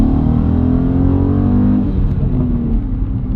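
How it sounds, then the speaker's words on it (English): BMW G87 M2 engine running with a continuous low exhaust drone and faint, subdued burbles; a steady near rumble with no speech. "There's a little bit of burbles, but they're not very loud whatsoever."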